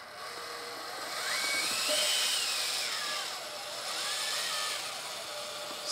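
A 1:14 scale RC metal Unimog 535 truck creeping slowly downhill, its small electric motor giving a faint high whine that rises and falls in pitch as it moves.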